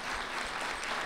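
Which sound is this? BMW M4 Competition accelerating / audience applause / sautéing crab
audience applause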